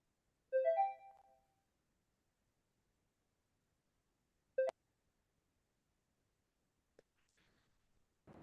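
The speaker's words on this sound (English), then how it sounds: "Let's do one last call to Briggs here on the phone." A telephone call rings out with one short tonal burst, then a brief blip and a few faint clicks against near silence.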